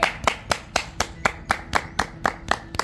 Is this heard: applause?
yes